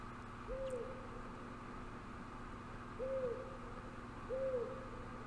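Owl hoots in a Harry Potter and the Sorcerer's Stone game owl shop, three soft descending calls spaced a few seconds apart over a steady low ambient hum.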